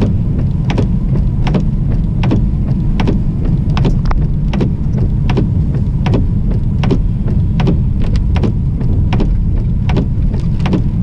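Steady rain pours down with a dense, constant hiss, and regular drips tap sharply on a nearby surface.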